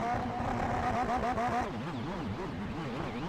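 A GTE race car engine revs in the pit lane of the iRacing game at Daytona, rising and falling in repeated wavering sweeps, loud and continuous.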